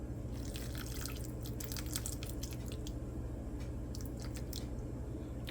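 Water trickles and drips into a bowl of flour, with soft wet squishing and scattered splashy ticks over a low steady hum.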